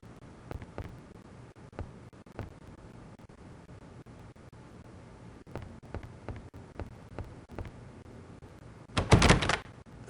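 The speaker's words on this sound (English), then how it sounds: "The door, it is locked tight." A locked door is tried in the Agatha Christie game Evil Under the Sun: soft dull knocks and thunks scattered across the room tone, ending in a louder, brief rattling burst near the end.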